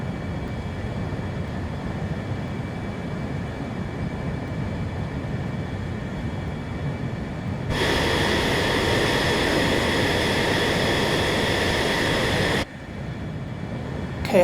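A simulated F-35A jet roars in steady flight low over the runway approach at Lakenheath in Microsoft Flight Simulator, a continuous broadband engine rumble that swells louder for several seconds, then cuts back abruptly, with no voices.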